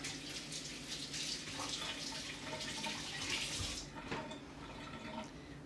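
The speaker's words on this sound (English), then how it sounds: "I'm gonna rinse my hands again" Tap water runs steadily over hands being rinsed at a kitchen sink while making a salad with feta, a continuous close splashing rush with a brief dip near the end.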